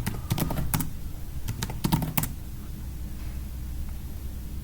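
Quick bursts of keystrokes on a computer keyboard as a username is entered, two short clusters of clicks near the start followed by quiet room hiss.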